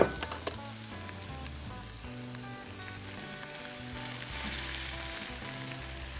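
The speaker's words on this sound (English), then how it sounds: "We're going to dump in our onions," Onions, celery and carrots frying in a pan on low heat, a continuous soft sizzle with occasional stirring crackles, close and steady, with a faint hum underneath and no talking.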